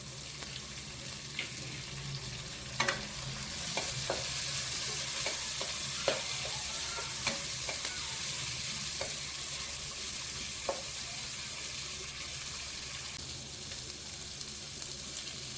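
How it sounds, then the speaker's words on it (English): Curry leaves and onions sauté in a hot pan with a steady, soft sizzle, broken by scattered sharp clicks and scrapes of a spoon stirring, fairly close and without voices. "Add curry leaves and saute it."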